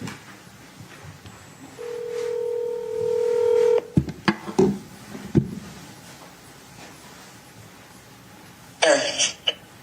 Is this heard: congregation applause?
no